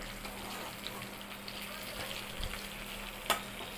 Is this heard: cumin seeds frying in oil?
yes